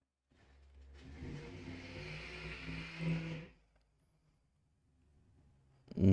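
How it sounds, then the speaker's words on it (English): A truck outside revs its engine in a rising, droning roar for about three seconds, cutting off abruptly and leaving near silence before a brief loud knock at the end. "You guys should have heard that truck outside"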